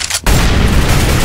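An incendiary grenade going off in the video game Counter-Strike: Global Offensive, a sudden loud, close burst after a brief quieter moment, followed by a sustained roaring rush.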